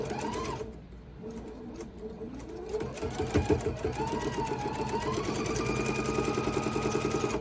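A sewing machine stitches a quilt seam with a 1/4 inch foot, its motor whirring up to speed and then running in a steady, rapid mechanical rhythm, fairly quiet and close.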